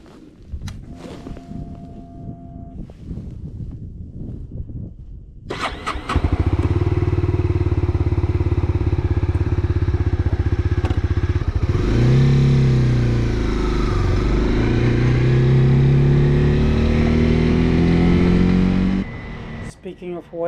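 A Honda CB300R motorcycle engine starts after a quiet stretch and runs steady and loud, with a rise and fall in revs midway, then cuts off near the end.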